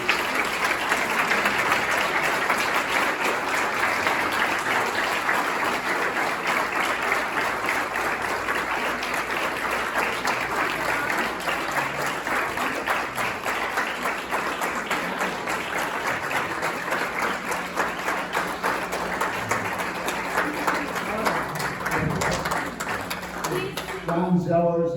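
An audience at a retirement celebration applauds loudly and steadily for about twenty-five seconds, a dense, sustained roomful of clapping that fades at the very end.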